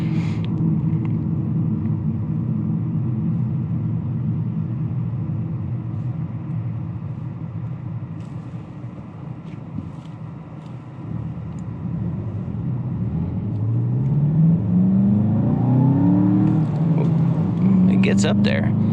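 A 2019 Volkswagen Jetta GLI with a turbocharged direct-injection engine rumbles from inside the cabin, dips, then climbs in pitch as it accelerates hard through the rev range, loud and close.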